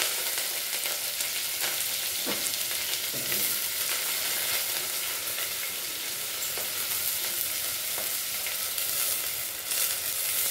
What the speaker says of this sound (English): So I'll fry them just a little bit until they're translucent.